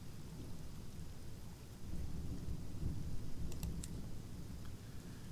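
A thunderstorm with rain plays as ambience for a tabletop role-play session: steady rainfall with low rolling thunder that swells partway through, plus a few faint clicks, and no one speaking.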